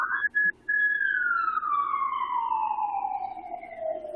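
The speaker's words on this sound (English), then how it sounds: "There's some sirens going by." Emergency vehicle sirens pass outside in a downtown street, a loud wailing tone that cuts out briefly at the start, then holds and slowly falls in pitch as it moves away.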